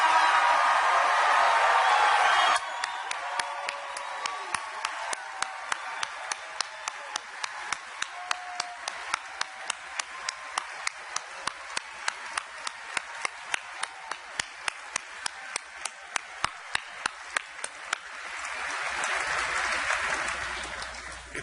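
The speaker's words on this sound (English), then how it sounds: "get a round of applause from you guys" A rally crowd in Laramie applauds the Democratic members of the Wyoming State Legislature, opening with a burst of cheering and clapping, then settling into steady, rhythmic unison claps that continue for many seconds and rise again near the end.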